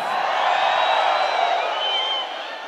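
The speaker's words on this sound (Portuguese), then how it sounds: "levanta a mão e dá o grito aí" A live concert crowd at a forró show in Natal, Brazil shouts and cheers together on cue, a dense, loud, sustained roar of many voices that holds steady before easing slightly at the end.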